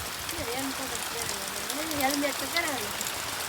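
Rain falls steadily on a sorghum field, a soft continuous hiss of drops close by, while people talk and call out over it.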